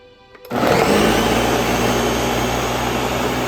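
A blender whirs to life after a brief quiet moment, running steady and loud as it purees habanero salsa ingredients with garlic cloves and jalapenos, with no voices over it.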